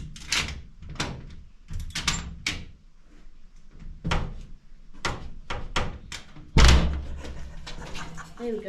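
Repeated thuds and knocks of a door being pushed and held shut at Yarrangobilly Caves, with one heavy slam near the end, mixed with close voices talking and laughing.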